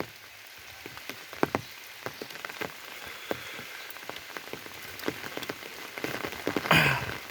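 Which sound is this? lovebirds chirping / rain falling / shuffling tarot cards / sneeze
rain falling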